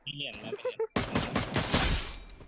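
After a short stretch of speech, loud rapid gunfire in the Free Fire game breaks out as a dense burst of shots, continuing to the end.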